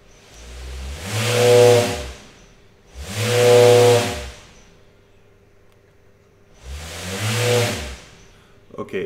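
A T-Motor U15 motor spinning a propeller on a VESC controller at 180 amps gives three separate loud whining, hissing runs that rise, hold and fall away, with short quiet gaps between them.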